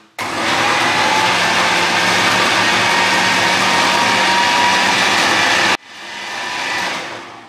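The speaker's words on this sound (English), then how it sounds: "into the food processor, and we're going to turn this on, and we're going to whiz it until it becomes nice and creamy" A food processor whirs as it blends frozen bananas into two-ingredient ice cream. The loud, steady motor roar starts abruptly, runs for several seconds and cuts off. A quieter second run then swells and fades.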